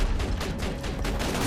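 Rapid, dense turret gunfire in the video game Borderlands 2, a continuous burst of overlapping shots filling the whole moment, loud and close.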